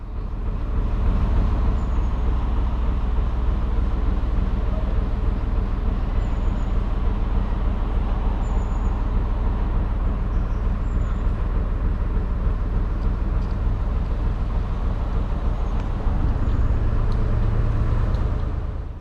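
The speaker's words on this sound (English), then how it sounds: "I'll be glad to get away from these busy roads. I hate traffic noise." Continuous low rumble of road traffic at a busy junction near the Upper Peak Forest Canal, heavy vehicles like buses or trucks passing steadily, with a faint air-brake hiss now and then; no talk.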